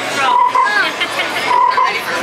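Croaking frog effect set off by an interactive wand spell at Honeydukes in the Wizarding World of Harry Potter at Universal Studios Orlando, heard as warbling croaks over the lively crowd noise of the shop.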